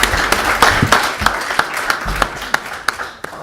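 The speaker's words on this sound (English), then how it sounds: "Round of applause." Audience applause at a public discussion on post-war state building in South Sudan, made of scattered, irregular claps that rise and fall in strength rather than a dense roar, with no talking over it.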